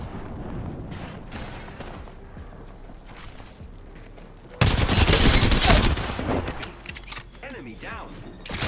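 Apex Legends gunfire sounds as scattered shots that build into a loud, sudden burst of rapid automatic fire partway through, with blasts and mechanical clatter after it.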